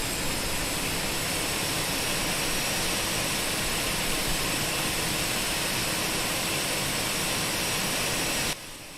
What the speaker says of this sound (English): So there we go, that's engine 1 up and running.